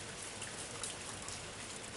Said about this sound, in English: steady patter of summer rain filled the night air, a soothing rhythm that hushed the world outside.